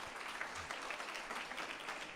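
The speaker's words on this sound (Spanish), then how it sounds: "Recibámoslo con un cariñoso aplauso" Church congregation giving a warm round of applause to welcome a visiting pastor, soft and fairly distant, continuous clapping without pause.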